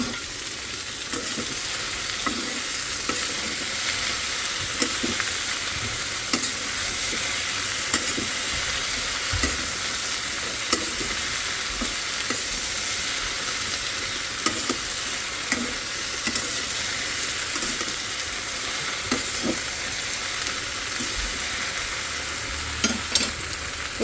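Vegetable bhaji frying and being stirred in a pan at home, with a steady close sizzle and repeated scraping stirs throughout, no talking.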